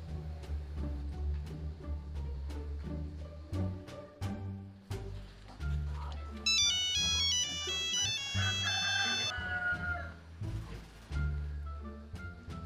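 A telephone ringtone plays a bright, repeating electronic melody for an incoming call in a Balinese comedy sketch, sounding loud and continuous over a low, steady backing.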